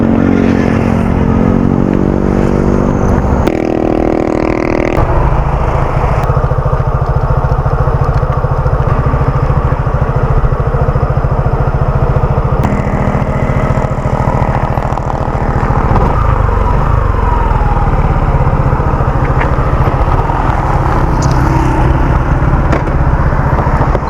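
A Suzuki Gixxer motorcycle with its mudguard removed runs steadily at idle, the close, loud engine drone holding alone through the clip with slight shifts in tone.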